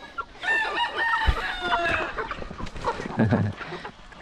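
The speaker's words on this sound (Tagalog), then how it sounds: "pakainin natin yung manok natin na pangkatay ito" Meat chickens on a small farm clucking and crowing close by, a busy overlapping chorus of fowl calls with a rooster's crow standing out.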